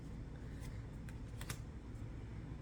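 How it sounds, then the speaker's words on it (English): Tarot cards being shuffled by hand, giving a soft continuous riffling rustle with a few brighter flicks, close and fairly quiet over a steady low background hum. "maybe I'll shuffle and see if a card pops out"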